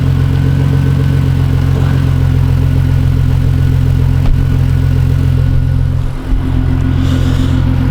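A BMW E46 330Ci with an M3 exhaust rumbles steadily and loudly at close range, with a deep, even drone and a brief dip near the end.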